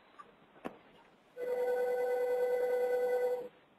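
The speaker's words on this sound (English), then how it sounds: "I hear a ringing, but I'm going to go forth." A steady electronic telephone-style ringing tone sounds alone for about two seconds at moderate volume, preceded by a faint click, during a public-safety webinar on road safety funding.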